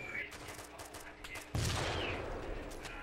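Gunfire in the video game Arma II, quick shots at first, then a loud burst that sets off a sustained noisy rumble, fairly distant and without talk.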